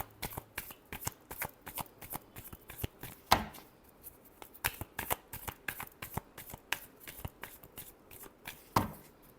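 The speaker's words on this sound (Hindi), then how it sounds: "last shuffle" Tarot cards being shuffled by hand, a rapid, steady riffle of crisp papery flicks and taps close by, continuing throughout with a couple of sharper slaps, no talking.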